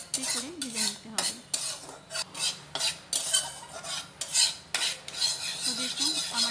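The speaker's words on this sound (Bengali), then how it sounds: "এই বেসনটাও যতক্ষণ ওই বিস্কিট কালার আসে ততক্ষণ আস্তে করে ভেজে নিতে হবে।" Gram flour (besan) roasting slowly in ghee in a pan, stirred with a metal utensil in repeated scraping strokes over a faint sizzle, close and fairly loud, with no talk.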